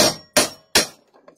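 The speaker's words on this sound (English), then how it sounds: "when my die goes through there, I don't want it hammering directly onto the metal" Three loud, sharp hammer strikes drive a steel die through metal for a knife handle, evenly spaced about a third of a second apart, each ringing briefly before fading, followed by faint small clinks.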